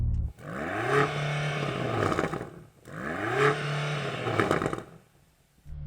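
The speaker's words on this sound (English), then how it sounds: "Go and rev up your plug-in hybrid." A BMW XM plug-in hybrid engine revs hard twice in succession, each rise climbing sharply to a soft limiter around 4,500 RPM before dropping back, loud and close with no talking.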